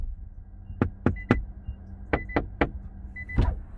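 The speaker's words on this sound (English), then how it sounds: "you'll notice as I shut the door, that active, acoustic glass" A 2022 Infiniti QX55 door with active acoustic glass shuts, producing a series of sharp, close clunks and clicks in quick groups against a quiet background.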